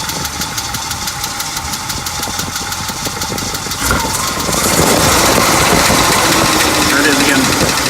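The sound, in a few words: 1939 Pontiac Eight engine idling with low tapping noise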